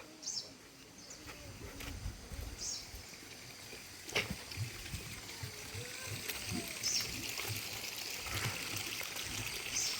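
Water runs steadily from the tap of a large government-supplied storage tank outdoors, a soft continuous trickle heard at a distance under birdsong and faint background noise.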